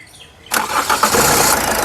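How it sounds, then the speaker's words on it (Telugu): A 2017 Toyota Etios GD diesel car starts on a single crank, the engine catching abruptly after a quiet moment and settling into a loud, even idle close by. "ఒకసారి ఈ కారు ఇంజన్ స్టార్ట్ చేసి చూపిస్తాను"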